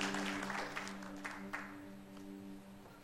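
A church congregation applauds, a swell of clapping that rises in bursts and fades out over a sustained organ or keyboard chord, with faint voices underneath.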